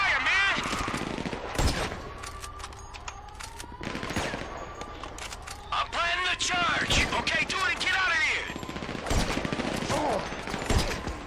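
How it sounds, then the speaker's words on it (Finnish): Gunfire in GTA 5 during a heist aboard a ship, with repeated sharp shots and bursts spread through the clip, loud and close, mixed with game sounds while people talk over it. "I'm taking fire, man."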